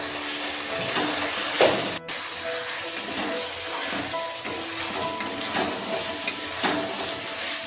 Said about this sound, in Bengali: এখানে আমাদের মাংস কষানো হয়ে গেছে, মাংস থেকে তেল ছেড়ে দিয়েছে